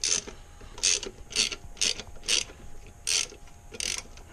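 Valve cover bolts on a 2002 Nissan Pathfinder are run down with a ratchet, giving repeated bursts of quick clicking pawl sounds at irregular intervals, close and clear with no talking.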